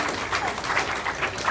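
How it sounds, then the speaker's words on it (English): A small audience at a road improvement meeting claps briefly, a dense patter of applause heard up close. "Let's give her a round of applause."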